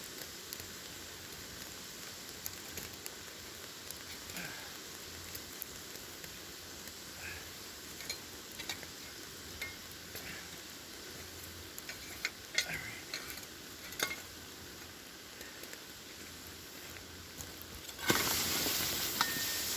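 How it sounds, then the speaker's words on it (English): Water boiling inside a SOL heat sheet space blanket, giving a steady soft sizzle and crackle with scattered ticking pops, growing a little busier and louder near the end. "Now the whole thing is boiling."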